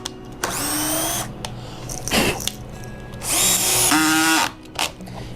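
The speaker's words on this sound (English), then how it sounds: "I'm just going to run a screw in right here" A power drill drives a screw into a workbench: two loud, close bursts of whining motor with a rising pitch, separated by a brief rattling pause.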